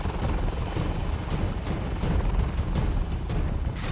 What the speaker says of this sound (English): Here, the advanced light helicopter, Dhruv, is carrying out a nape of the earth flying mission.